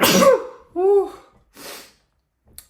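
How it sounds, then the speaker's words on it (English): A single sharp sneeze with a breathy intake, followed by a short vocal exhale and a faint sniff, close to the listener. "I need to sneeze 2 seconds."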